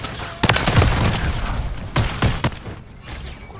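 Gunfire from the Haymaker shotgun in Call of Duty MW3, heavy blasts landing in a few spaced bursts around booming game sounds, near and loud.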